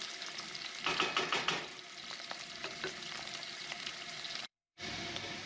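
Onion frying in a pan and being stirred until soft, a continuous close sizzle with scraping stir strokes and a louder burst early on, then a brief drop to silence near the end.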